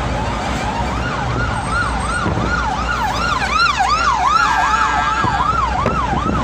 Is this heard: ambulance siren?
yes